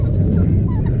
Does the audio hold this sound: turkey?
yes